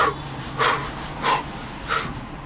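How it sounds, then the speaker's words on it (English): A man doing a breathing exercise, drawing three or four forceful, rhythmic breaths about once every two thirds of a second, each a close, airy whoosh over a quiet room. "Breathing exercise is key."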